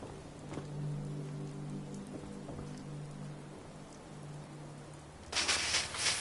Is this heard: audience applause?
no